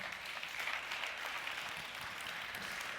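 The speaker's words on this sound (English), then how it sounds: "I like how many people clapped versus how many did not" Audience applause from a crowd at a business conversation event, steady broadband clapping throughout without pause, moderately loud and diffuse.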